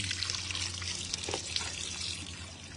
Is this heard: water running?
yes